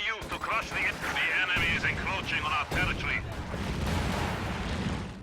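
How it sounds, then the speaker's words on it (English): In a Company of Heroes 2 battle, a bundle grenade explodes amid loud booms and gunfire, under an excited commentator's voice that runs through most of the clip. "In goes a bundle grenade."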